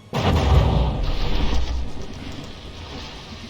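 Heavy shells slam into a battleship in From the Depths during a tournament brawl between the Dorchester and the Norge, landing as a loud, deep boom followed by a rumbling, fading roar.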